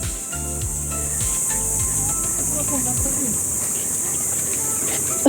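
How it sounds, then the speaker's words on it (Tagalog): Crickets buzz in a constant high, dense trill near the Old Wawa dam, loud and unbroken throughout, while a person talks underneath. "Ang daming kuliglig."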